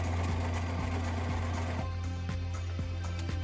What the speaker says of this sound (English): So we'll just take a minute to sew down, and we're going to stop before the curve.